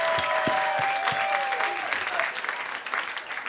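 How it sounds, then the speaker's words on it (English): An audience at a stand-up comedy writing class show in Atlanta applauds, a dense burst of clapping that carries on steadily for a few seconds alongside a few sharper single claps and a faint tone. "So give them a round of applause."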